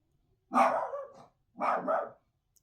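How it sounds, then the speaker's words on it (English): A dog barks twice, two short separate barks about a second apart, fairly close and clear against a quiet background. "I'm so sorry about the dog barking."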